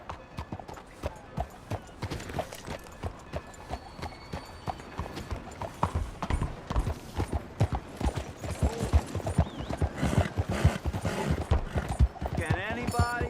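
Horse hooves clip-clopping steadily in Red Dead Redemption 2, a rapid rhythmic clatter growing louder over the clip, with game voices and ambient sounds mixed in.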